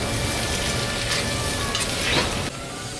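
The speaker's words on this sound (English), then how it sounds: "Make sure you're constantly stirring so it doesn't stick." Pad thai noodles and egg sizzling loudly in a hot pan as they are constantly stirred, a dense close frying hiss broken by brief scrapes and clatters, with no talking.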